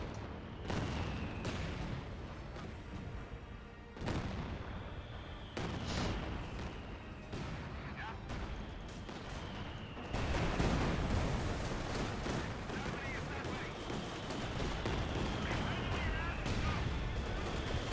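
Company of Heroes 2 artillery bombardment lands as a string of heavy booming impacts spaced a second or two apart, building into a sustained loud rumble of explosions in the second half.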